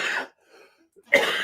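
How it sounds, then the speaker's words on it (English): Two short, harsh coughs close to the microphone, separated by a brief pause with faint breathing. "my cough sounds terrible"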